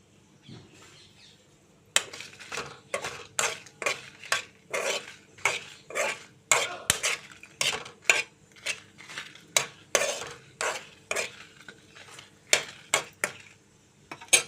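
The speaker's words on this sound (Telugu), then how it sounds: "ఎండుమిర్చి వేసుకొని కొంచెం దూరగా అయితే వేయించుకున్నామండి" Rapid rhythmic clinking and scraping of a spatula roasting dry red chillies in a dry pan, steady tossing strokes continuing for many seconds, close and clear.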